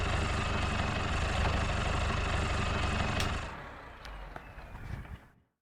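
A farm tractor's engine idles with a steady low diesel rumble nearby, then drops to a quieter, uneven chug with a few sharp clicks before cutting out.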